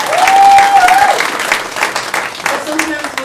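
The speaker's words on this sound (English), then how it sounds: "Another round of applause for the club here." Applause from a comedy club audience, a crowd clapping loudly at first and then thinning out over a few seconds, mixed with voices.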